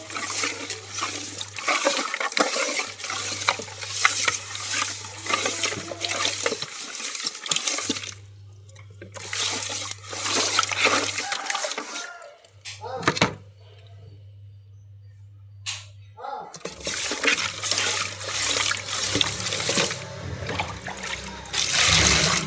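Fish being washed, with water poured and sloshed over it in repeated rushing bursts separated by short pauses, over a steady low hum and without any voices.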